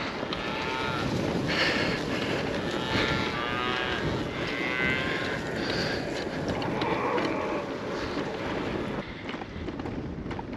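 Several cows moo again and again on the Orkney or Shetland Islands, some close and some farther off, with steady wind rushing across the microphone the whole time.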